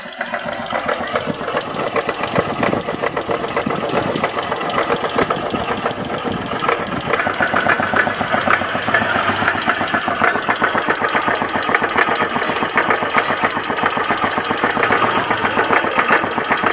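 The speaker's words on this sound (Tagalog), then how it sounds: "Ngayon yung naririnig nyo ngayon na parang tak tak dito galing sa tambucho." A motorcycle engine idles steadily and close up after a connecting rod and crankshaft replacement, with a rapid, even tak-tak tapping coming from the exhaust that runs throughout without pause.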